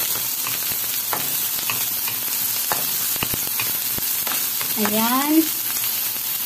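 Onion and garlic sauté in hot oil in a pan for pancit, a steady close sizzle with scattered stirring clinks, while a voice speaks briefly near the end.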